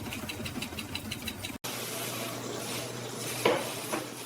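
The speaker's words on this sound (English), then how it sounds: "The rotary blades move with incredible speed, slicing the sheet with surgical precision." Rotary blades cut a noodle sheet in a factory. A steady mechanical hum runs throughout, with faint rhythmic clicking early on and a brief metallic clink near the end.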